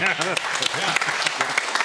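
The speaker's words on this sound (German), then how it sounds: "Bitte einen Applaus, ich brauche Unterstützung." Studio audience applause on a sports fan talk show, a dense wash of clapping that runs under a voice talking over it.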